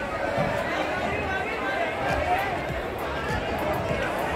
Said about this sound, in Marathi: बाजारात खूप गर्दी असते